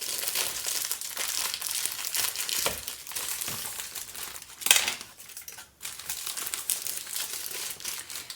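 Plastic wrapping on a box of matzo crinkles and crumples as it is handled and cut open with scissors, a continuous close rustle with a sharper snip or tear midway.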